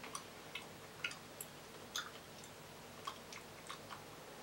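Quiet, close chewing of a chewy watermelon-scented Japanese candy, a sparse series of small sticky clicks and smacks at an irregular pace, faint and without talk.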